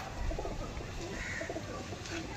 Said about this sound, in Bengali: একটা পেয়ার টেডি পায়রা